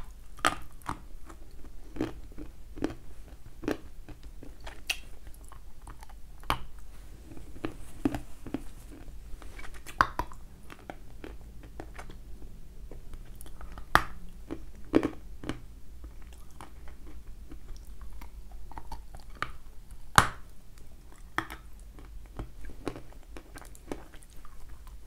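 Dense Kyrgyz dried fruit, including prunes, is bitten and chewed close up, giving repeated sharp crunchy bites and soft chewing at an irregular pace over a faint steady background hum, with no talking.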